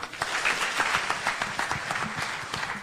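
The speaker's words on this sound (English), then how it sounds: "Let's clap for him." Applause from a live audience at a televised Kenyan national address, a moderate burst of clapping with individual claps standing out, fairly quiet and continuous for a few seconds.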